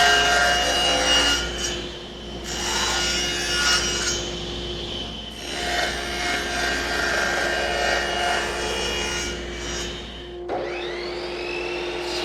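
Power saw ripping a narrow strip from a wood board for a business card holder, a steady loud whine of blade through wood that dips briefly near the end, with no talk.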